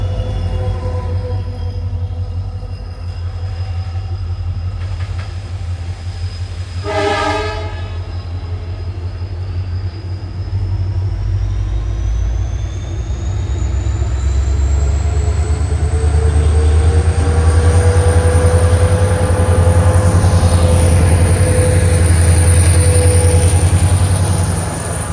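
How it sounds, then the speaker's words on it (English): Arsikere–Bengaluru–Channapatna passenger train arriving at Jnanabharati railway station, a loud close rumble that builds steadily, with a brief tonal burst early on and rising wheel squeal as the cars roll in. "here you can see the Arsikere Bengaluru Channapatna passenger is arriving at Jnanabharati railway station"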